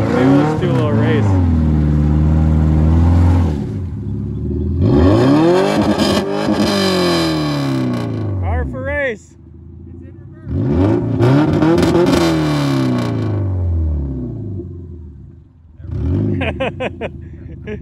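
Subaru and Cadillac cars racing in mud, engines revving hard in long rising and falling bursts that swell loud and close, with brief dips between pulls.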